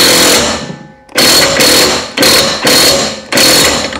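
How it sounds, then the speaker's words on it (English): Close and loud, an impact gun tightens a bolt during a repair job. It fires four hard hammering bursts, each about a second long, with short pauses between them. "we're going to get our trusty impact gun"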